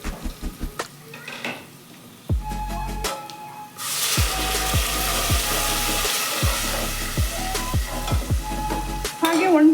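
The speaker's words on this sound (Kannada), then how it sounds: "ಇಷ್ಟು ಫ್ರೈ ಮಾಡಿಕೊಂಡ್ರೆ ಇವಾಗ ರುಬ್ಬಿಟ್ಕೊಂಡಿರೋಂಥ ಮಸಾಲೆ ಹಾಕೋತಾ ಇದ್ದೀನಿ" Ground masala paste dropped into a hot pan of frying seasoning for a thin rasam, with steady sizzling and repeated scraping stirs of a spoon against the pan, loud and close throughout.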